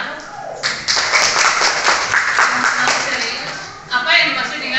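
Students in a ninth-grade Indonesian language classroom break into brief applause, a burst of scattered clapping after a teacher's voice, with talk continuing around it.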